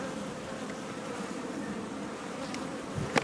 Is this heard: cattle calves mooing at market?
no